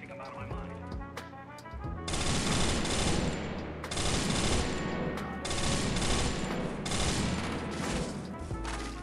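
Dense automatic gunfire from the Free Fire mobile game, sustained bursts of fusillade and machine-gun fire that swell loud after a quieter musical opening, with brief gaps between volleys.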